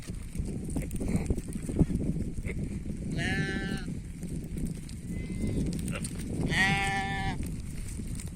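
Two clear bleats from a poisoned sheep, a few seconds apart, over a busy background of low rumbling and movement.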